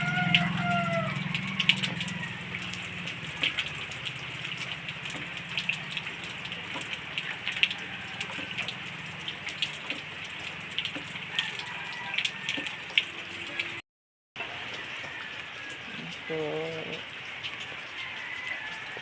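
Steady, heavy rainfall after three days of rain, with a continuous wash of drops and splashing water near a well filled with water, a brief gap of silence partway through.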